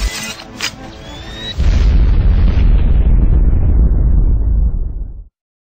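Atomic bomb blast from the Braid video game's final level: a sharp crack gives way to a deep, loud, sustained rumbling roar that rolls on for several seconds before cutting off abruptly.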